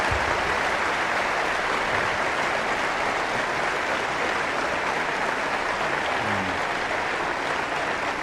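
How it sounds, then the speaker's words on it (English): Audience applause at the 1994 Berkshire Hathaway annual shareholder meeting, a large crowd clapping in a dense, steady roar that carries on evenly for several seconds. "I would like to suggest we give them a rousing hand of applause for a job well done."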